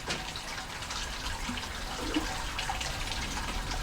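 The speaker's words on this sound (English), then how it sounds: "I'm now sparging, so I'm just about a litre of water at a time, just on top of a little plate" Sparge water poured over a perforated plate onto grain during all-grain beer brewing: a steady, close splashing and trickling wash of running water with no talking.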